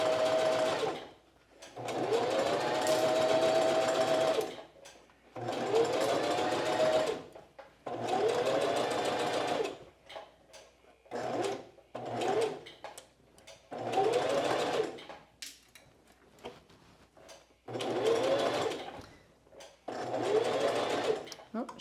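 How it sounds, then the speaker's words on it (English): A sewing machine stitches bias tape onto quilted jacket fabric in repeated bursts of rapid whirring, each lasting a few seconds and separated by short pauses, close and fairly loud. "So over to the sewing machine, I'm going to start here where the bias tape overlaps fabric."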